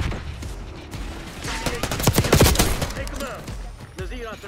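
Rapid bursts of automatic gunfire from a Call of Duty Black Ops 6 multiplayer match, building to a dense, loud volley around the middle and then thinning out, with faint game voices mixed in.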